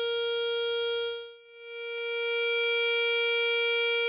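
A Garrett Ace 350 metal detector in pinpoint mode gives a pure electronic tone that dips briefly, then swells back and holds steady, with a faint rapid pulsing over it.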